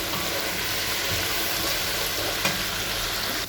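Pieces of dorade fish with spices sizzle and fry steadily in a pan while being stirred, a dense continuous crackle close up with faint scraping.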